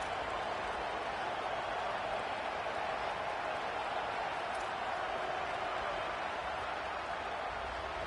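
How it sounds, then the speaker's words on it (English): Home crowd at an Oregon vs Indiana football game roaring loudly, a dense, steady wall of cheering and noise that holds without a break from start to finish. "how nice is it to have the home crowd going absolutely bananas?"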